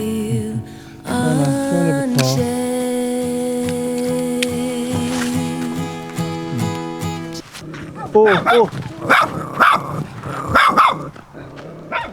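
A dog at a winter campsite with children barks and whines in a run of close, wavering cries for several seconds, followed by people talking nearby.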